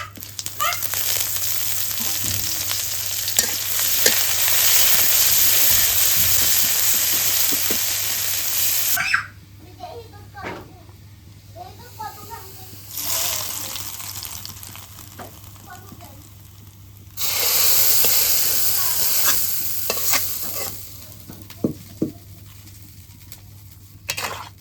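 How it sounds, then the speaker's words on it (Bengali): Bay leaf and chopped onion frying in mustard oil in a wok, a loud steady sizzle broken by quieter gaps where stirring scrapes and clatters, the sizzle swelling back twice. "এখন এই কড়াইয়ে তেজপাতা আর পেঁয়াজ কুচি দিয়ে দিই, ঘুরিয়ে রান্না করি।"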